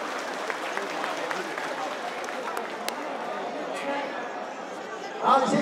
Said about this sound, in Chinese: 再次以热烈的掌声来给我们小英总统掌声鼓励一下